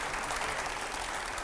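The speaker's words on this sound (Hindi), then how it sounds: "जोरदार तालियां" An audience at a political event honouring Chirag Paswan breaks into loud, steady applause, a dense wash of clapping with no pause.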